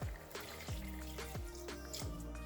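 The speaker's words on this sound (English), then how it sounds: "You can see that the water has boiled down a bit, so let's top it up." Water is poured into a simmering pot of Nigerian okra soup, a steady close pour with bubbling, gurgling blips running throughout.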